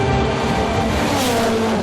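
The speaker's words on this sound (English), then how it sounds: "he's in a fully prepped ProDrive built tarmac spec rally car" A ProDrive-built tarmac-spec Subaru rally car races past at full effort, engine roaring loud and dense as tires squeal and the pitch shifts through the passing.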